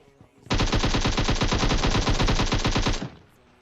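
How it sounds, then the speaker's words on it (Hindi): An AKM rifle in the mobile battle royale game PUBG Mobile fires a sustained loud automatic burst lasting about two and a half seconds, rapid evenly spaced shots, with no talking. "अब यहां पे गोलियों की आवाज जोर से आती है।"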